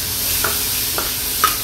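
Seafood sautéing in a pan gives a steady sizzle with three soft spoon scrapes across a short stretch, no voices.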